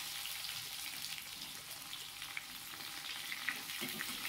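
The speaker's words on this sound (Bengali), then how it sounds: "এবার পেঁয়াজগুলোকে ভালো করে ভাজবো" Chopped onions fry in oil in a pan for a chicken curry, giving a steady, close sizzle with a few soft stirring scrapes and no voices.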